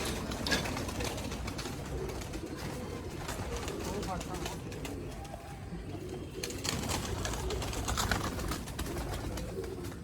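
Black-faced Sialkoti pigeons coo steadily through a rooftop loft recording, their soft repeated calls layered over a constant background of rustling and murmur, with someone talking over them.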